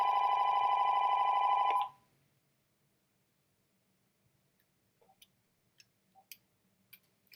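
A telephone rings loudly and steadily for nearly two seconds, then cuts off, leaving near silence with a few faint clicks and taps afterward.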